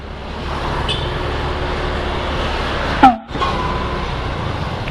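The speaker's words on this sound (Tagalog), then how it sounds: "Dito traffic dito pag rush hour." Rush-hour road traffic on Llano Road in North Caloocan roars continuously with engine and roadway noise, one brief sharp burst standing out midway, no voices heard.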